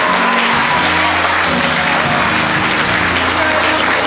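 A graduation ceremony crowd at Hastings Academy claps for the graduates, a loud, dense wash of applause mixed with voices and tonal sounds underneath, continuous throughout.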